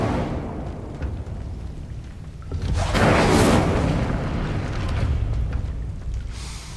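Fiery spell blasts in Hogwarts Legacy, a rumbling explosive whoosh that swells to a loud burst midway and then lingers as a roaring, crackling wash of flame with no speech.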